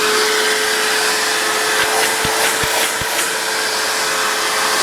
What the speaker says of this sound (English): we've swapped the Hoover over to suck now